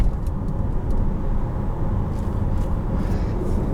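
A 2014 Mazda CX-9 Grand Touring rolls over bumps, heard from inside the cabin as a steady, loud low road rumble and engine drone with faint knocks across the few seconds.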